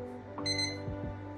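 A Baldr weather station with an outdoor sensor gives a short, bright electronic alarm beep against a steady hum, one close tone rising briefly from a quiet background.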